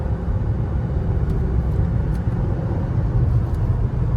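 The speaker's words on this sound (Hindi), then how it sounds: "देख ओवरटेक लेनी है, ये गियर डाउन किया" Skoda Kylaq car engine after a gear downshift while overtaking on a highway, a loud, continuous low rumble of engine and road noise heard from inside the cabin.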